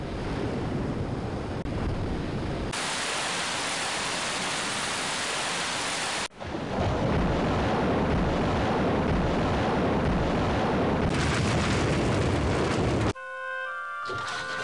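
Water flooding the ship in the Titanic: Adventure Out of Time video game, a loud continuous rushing wash that surges, briefly cuts out, then returns before fading to a quieter tail with some tonal game sounds.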